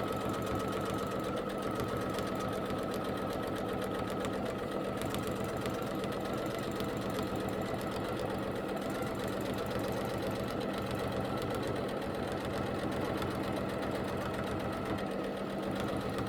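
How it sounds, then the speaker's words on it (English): A sewing machine free-motion stitching a quilt, using couching, runs in a steady, continuous mechanical whir with a fast rhythmic needle beat throughout, close and fairly loud, with no voices. "so I've stitched out that little corner there, just stitched in another little section"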